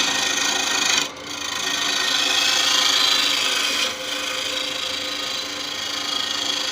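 A woodturning lathe tool trues up a spinning wooden box for a pop-fit lid, giving a steady loud scraping rasp with two brief pauses where the tool lifts off the wood.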